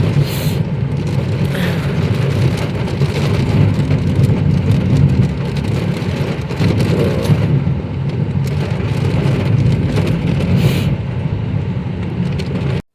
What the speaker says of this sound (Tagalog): Ngayon pauwi na kami, umuulan na naman. Ang lakas ng ulan.